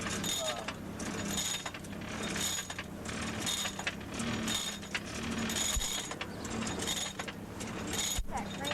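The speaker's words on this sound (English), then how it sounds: "the pump, okay, that controls the blower" A hand pump works a blacksmith forge blower on a farm, giving a continuous mechanical rattle and clatter with repeating strokes at a steady, moderate level.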